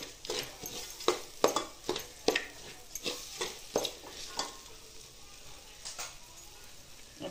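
Sprouted moth beans (matki) being sautéed in a pan, with a spatula tapping and scraping in an irregular rhythm of sharp clinks over a soft, steady frying hiss, close and moderately loud.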